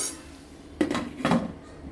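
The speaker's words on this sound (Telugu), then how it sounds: "ఒకసారి మూత తెచ్చొద్దామండి" Two brief metallic clanks a moment apart as a pan lid is lifted off cluster beans frying, close and fairly clear against a quiet background.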